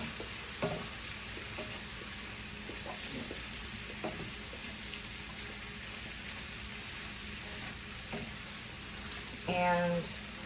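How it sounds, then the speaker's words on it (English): Onions sizzle in a frying pan with a faint steady hiss, broken by soft scraping taps as they are tossed and stirred, and a brief clatter near the end. "So you're gonna go ahead and kind of toss your onions around to coat them with all of that deliciousness."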